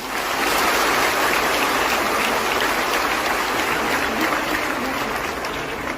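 A large audience claps loudly and steadily at a public gathering, a dense, continuous wash of applause that holds without a break, with no talk over it.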